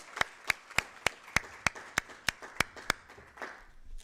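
Audience clapping at a UNISA international festival session, heard as faint, evenly spaced single claps in a steady rhythm, about three per second, that thin out and fade toward the end.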